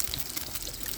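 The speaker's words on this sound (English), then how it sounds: "I'll just put a load of water in here." Water pours steadily into a small camping pot on a Trangia Mini 28 stove, a continuous, moderately loud splashing rush heard alone.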